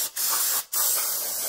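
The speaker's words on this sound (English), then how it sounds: "grab yourself some brake cleaner, and we're going to spray around this area really quick" Brake cleaner sprays from an aerosol can onto the rear end of a Ford Mustang in a close, loud hiss, broken by two quick pauses between bursts.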